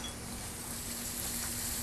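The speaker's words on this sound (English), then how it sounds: "The moment the oil begins to sizzle" Pancetta sizzles in hot oil in a pan, a soft, steady, even crackle that continues for a couple of seconds at low level with no talking.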